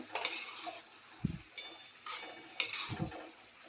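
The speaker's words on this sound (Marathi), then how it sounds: "डाळ आणि पालक सर्व मिक्स करून घेऊया" A utensil scrapes and clinks against a pan while mung dal and spinach are stirred together for a dry Marathi-style palak sabzi, in a few separate short bursts with quiet gaps between them.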